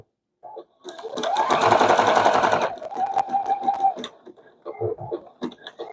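A sewing machine runs a stay stitch slowly around curves, with a loud stretch of fast stitching, then a steadier lighter run and short start-stop bursts as the fabric is pivoted.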